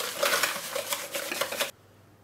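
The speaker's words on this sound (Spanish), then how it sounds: "Añadimos el cuarto huevo y seguimos batiendo hasta que esté bien integrado." Eggs and sugar are beaten in a bowl by hand for a carrot sponge cake, a quick, steady clatter of a whisk against the bowl in rapid rhythmic strokes, close and moderately loud, then stopping abruptly.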